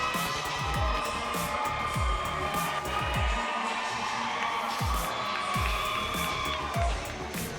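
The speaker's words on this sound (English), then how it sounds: "Crowd's starting to get into it here." A crowd at a 135-pound MMA bout in a caged arena cheers and murmurs in a steady wash of noise, with repeated low thumps rising through it.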